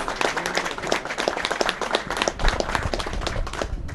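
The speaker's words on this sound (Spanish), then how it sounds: "A quien le pido un aplauso a Barcelona por su puesta bien merecida." Crowd applause for Barcelona Sporting Club at a football club ceremony, a steady, dense patter of many hands clapping for several seconds at moderate loudness, with no voices over it.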